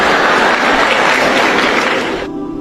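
Loud, dense applause from a large audience fills the clip, then tapers off sharply near the end.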